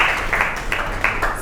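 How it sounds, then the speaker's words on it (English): A classroom of students claps briefly for a classmate, a short burst of several quick, uneven claps close by. "Clap your hands for friend Shahad."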